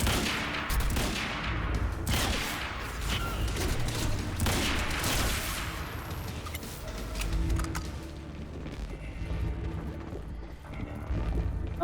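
A carbon rifle fires dense, rapid bursts in the Quantum Break video game. The loud crackling gunfire runs through most of the stretch and thins out toward the end.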